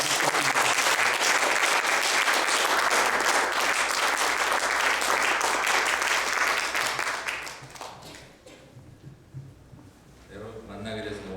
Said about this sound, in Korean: 목사님 나오실 때 크게 한번 박수하면서